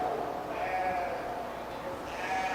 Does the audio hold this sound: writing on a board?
no